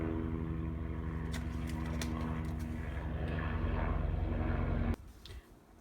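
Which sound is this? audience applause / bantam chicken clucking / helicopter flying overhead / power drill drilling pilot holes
helicopter flying overhead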